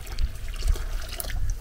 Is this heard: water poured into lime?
yes